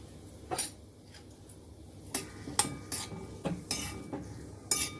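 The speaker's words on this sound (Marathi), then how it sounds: "हे जे गाजराचे आपण काप केले आहेत ते आपण कढईत घालायचे आणि छान जराशी त्याला मऊ होईपर्यंत थोडंसं शिजवून घ्यायचं आहे" Carrot slices cook with ghee in a kadai as a spoon scrapes and clinks against the pan in scattered, fairly sharp taps over a faint, quiet background.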